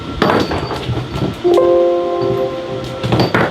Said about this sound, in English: Sorry about the noise. My puppy is playing with the jar.